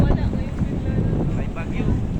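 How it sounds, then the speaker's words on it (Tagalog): Strong wind from an approaching typhoon buffets the microphone in Hong Kong on National Day, a steady low roar with gusty rumble, while a voice talks faintly underneath. "Yes, mahangin na."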